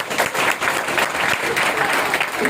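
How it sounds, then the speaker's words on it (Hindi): Audience at a motivational seminar in India bursts into loud, sustained applause, dense clapping filling the whole stretch without pause. "बार जोरदार तालियां मैडम के लिए"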